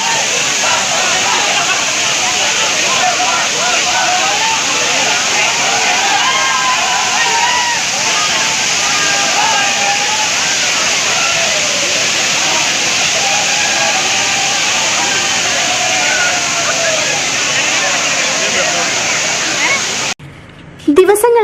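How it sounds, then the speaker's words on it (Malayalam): Thirparappu waterfall in Kanyakumari, Tamil Nadu, swollen after heavy rain, roaring in a loud, steady broadband rush of falling water that is cut off abruptly near the end. "ഐതിഹ്യങ്ങൾ ഉറങ്ങിക്കിടക്കുന്ന തൃപ്പരപ്പ് വെള്ളച്ചാട്ടത്തെ നമുക്കൊന്ന് പരിചയപ്പെടാം"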